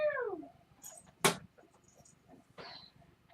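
A house cat gives a short descending meow at the start, followed by a sharp knock and a second brief, higher mew, with quiet room sounds between.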